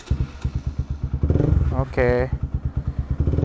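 A Bajaj Pulsar 200NS single-cylinder motorcycle idles with a loud, close, steady thumping beat. There is a brief rev in the middle, and a person speaks briefly over it.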